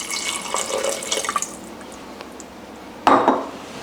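Water poured from a tap or jug into a cooking pot of tomatoes for soup, a close, short splashing burst near the end, with soft clinks of pans and utensils earlier in a quiet kitchen.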